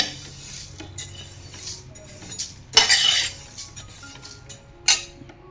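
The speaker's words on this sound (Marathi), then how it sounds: "इथं आपण आता उडीद डाळ भाजून घेऊया" Urad dal dry-roasts in a pan for chakli flour, a spatula scraping and stirring the lentils with a faint sizzle and a few louder metallic clinks against the pan.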